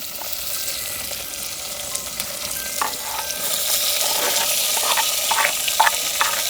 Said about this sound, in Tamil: வெங்காயம் போட்டு வதக்கி எடுக்க போகிறோம்